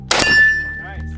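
A rifle's spent ammo clip pinging out the top after a shot, giving one loud sharp metallic ring that hangs briefly before fading.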